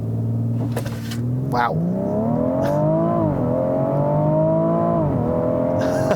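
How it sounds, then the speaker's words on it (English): A 2018 BMW X3 M40i engine revs hard with accelerator and brake both floored, a loud, sustained rising and wavering growl held close to the listener, as a voice briefly exclaims. "Let's put the stability control into its traction control off, and then floor the accelerator and the brake."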